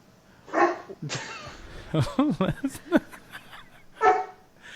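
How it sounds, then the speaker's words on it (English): A dog barks in several sharp bursts close by, with people talking and laughing around it. "now the dog's barking"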